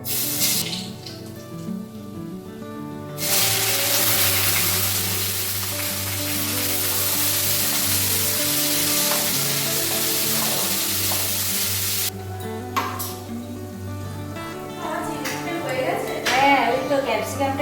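Chowmein fries in a pan on a home stove, a steady hissing sizzle running through the middle of the clip, with kitchen clatter and someone talking before and after.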